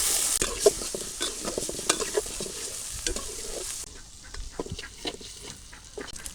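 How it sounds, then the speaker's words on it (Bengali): Prawns frying and being stirred in a wok with oil and chopped onion: a steady, close sizzle with frequent scraping stir clicks, quieting partway through as the hiss settles. "চিংড়ি মাছ দিয়ে দিলাম"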